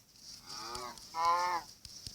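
Two short moos from a cow in the Minecraft video game, the second louder and brighter, heard clearly over a faint background hum with a few soft clicks.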